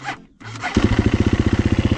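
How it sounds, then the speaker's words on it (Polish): A Kawasaki enduro motorcycle in neutral cranks briefly, then its engine catches and settles into a loud, fast, even chugging idle at close range. "Motor tylko na luzie odpala."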